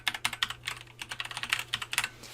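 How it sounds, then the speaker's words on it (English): Quiet, steady clatter of typing on a computer keyboard, a fast even run of soft key clicks with no talking while a web address is entered. "so we'll just type that in now"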